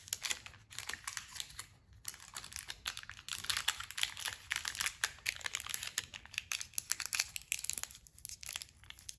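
Strawberry Tootsie Roll candies are wrapped by hand, with close, busy crinkling and rustling of wrapper paper in irregular bursts throughout and no voices.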